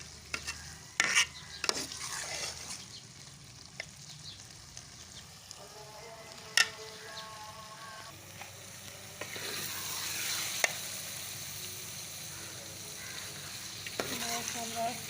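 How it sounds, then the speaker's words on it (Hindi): Peas and pumpkin curry with fresh coriander frying and being stirred in a pan, a soft steady sizzle with scraping spoon strokes and a few sharper clinks, close and moderately quiet. "तो उसे 3 मिनट इसको और भून लेंगे।"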